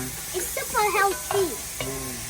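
Onions sizzle and hiss in a pan at an outdoor cooking spot, steady and close, while voices talk over the frying.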